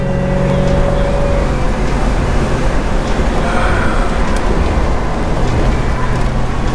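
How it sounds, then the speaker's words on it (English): A 1966 Plymouth Barracuda engine runs at a steady idle, a continuous close rumble that stays even and unbroken throughout. "This car runs smooth. It runs pretty decent."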